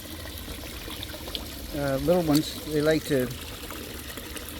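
Liquid compost fertilizer is poured into water holding goldfish, a soft steady trickle running under a person talking.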